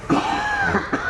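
A single short, voiced cough bursts out close up indoors, with a brief throaty follow-up, alone and fairly loud.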